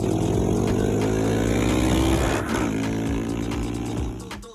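A Honda CBR 500R motorcycle engine produces a steady, close mid-pitched drone with a smooth tone that slowly drops in pitch and fades toward the end.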